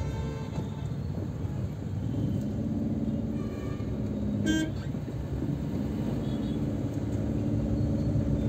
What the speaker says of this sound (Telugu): ఇక్కడంతా రోడ్ కొంచెం కంజెస్టెడ్గా అనిపిస్తుంది.